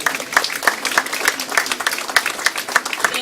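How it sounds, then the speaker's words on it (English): Applause from the audience at a ceremony honouring Mrs Judith Powell with the Korean Olympic team, a steady patter of many hands with regular louder bursts, moderately close and carrying on without a break. "shall we give another big round of applause for Mrs. Powell?"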